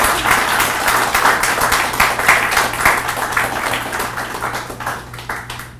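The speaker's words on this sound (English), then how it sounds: "Round of applause." A round of applause at a corporate awards ceremony for a CIO of the Year honour, dense and steady at first, then thinning and tapering off toward the end over a low steady hum.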